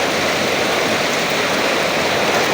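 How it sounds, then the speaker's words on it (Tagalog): Dense, steady roar of heavy rain mixed with rushing floodwater entering a garage, continuous and close throughout. "Malakas ng ulan."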